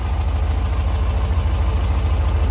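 A 1967 Volkswagen Bus engine idles close by, a loud, steady low-pitched thrum with an even pulsing rhythm and no voices over it.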